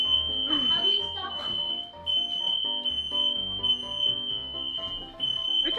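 Smoke detector alarm shrieking in a home kitchen during Thanksgiving cooking, a loud continuous high tone running the whole time under excited talking and other household noise.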